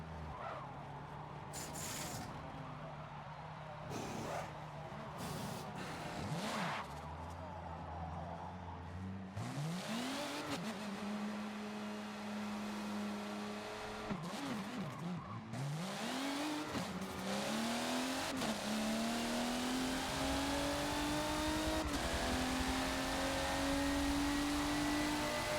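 A race car in the Forza video game screams at full throttle around Mugello, its engine note climbing steadily through the gears with brief dips at each shift and some tyre squeal, loud and continuous with no talk.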